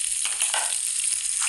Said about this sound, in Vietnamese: Mười chiếc đùi gà, ngon. Chúng ta cùng đi rán thôi.